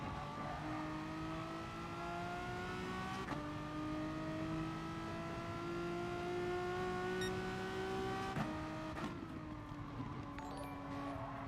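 Race car engine in Gran Turismo Sport at the Nurburgring in a Gr.4 car, a steady high whine holding and slowly climbing through gear changes, constant and continuous with no voices.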